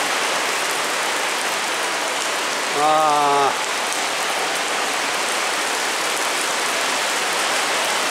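Heavy rain pours down steadily during a downpour forecast of over 80 mm, recorded near a concert hall entrance; a dense, even hiss continues throughout, with a brief voice interjection midway.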